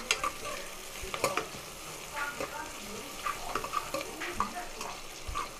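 Onions and green chilies sautéing in a pan for mushroom biryani, a moderate sizzle with frequent spoon scrapes and clinks against the pan, close by and fairly busy.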